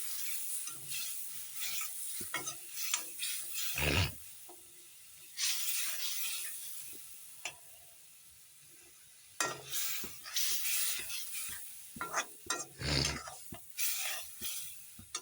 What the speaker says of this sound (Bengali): একটু কষুক দেখো মশলা আলু সব কষানো হয়ে গেল